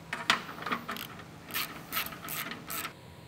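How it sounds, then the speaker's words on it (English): Clamps being tightened through holes to secure a hub onto a brush shaft during an RS-301 high side brush shaft upgrade, giving a series of short ratcheting, clicking mechanical bursts spaced at fairly regular intervals, close up and moderately quiet. "we can go ahead and tighten the clamps through these holes to secure the hub to the shaft"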